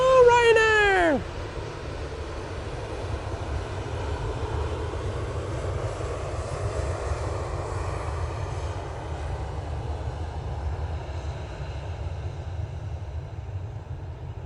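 A Ryanair airliner taxiing at Manchester Airport gives a steady, broad engine roar that holds for the whole stretch, with a brief falling whine at the very start.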